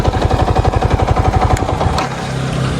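A Yamaha MT-15 V2 motorcycle with a loosely fitted silencer thumps in rapid, even, loud pulses for about two seconds, then settles into a softer, lower running sound.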